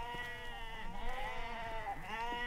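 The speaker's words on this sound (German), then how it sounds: "Hör mal, Gerda. Das sind Schafe." Sheep bleat in a German radio play from 1975, several wavering overlapping cries close by, sounding almost without pause for a couple of seconds.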